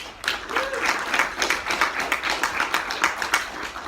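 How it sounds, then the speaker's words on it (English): An audience at a talk on technology, photography and social media applauds the speaker, a brisk, lively round of clapping with distinct individual claps, moderately close and continuing steadily, with a brief voice near the start. "how about a big round of applause for Aaron?"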